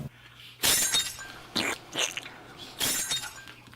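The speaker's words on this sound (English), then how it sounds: "it sounds like glass breaking" Brittle crunching and shattering bursts come in three or four separate bursts, close and fairly loud, like glass breaking.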